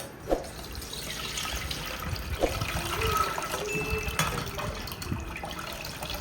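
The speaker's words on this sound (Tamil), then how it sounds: "அதை கரைச்சி ஃபில்ட்ரு பண்ணி தான் எடுக்கணும்" Dissolved tamarind water strained through a filter for a fish curry, a close, continuous trickle of liquid with occasional small drips and splashes.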